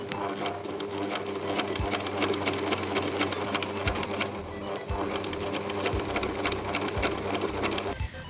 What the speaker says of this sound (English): you need to top stitch the opening of the pockets first